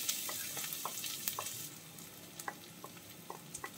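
Grated coconut frying in oil while being stirred, a steady soft sizzle with scattered light scraping and clicking from the spoon in the pan.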